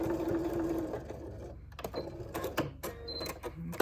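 A sewing machine back stitching at the end of a yoke seam on a button-down shirt, a close steady mechanical whir that stops and restarts in short bursts.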